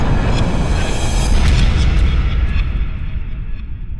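A deep, rumbling Big Bang explosion boom in an audio drama that swells and rolls on for several seconds, thick with low-end roar before slowly fading.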